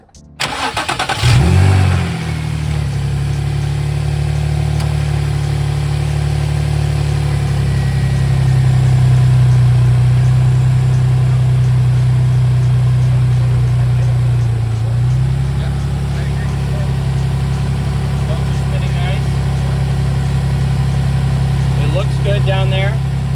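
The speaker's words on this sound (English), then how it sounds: "we'll start it up and see how it is" Nissan 350Z with a VQ35DE V6 and a newly fitted lightweight crank pulley kit, cranking and firing up, then a brief rev before settling into a loud, steady idle up close.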